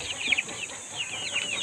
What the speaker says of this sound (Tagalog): papakita ko sa inyo yung mga alaga naming manok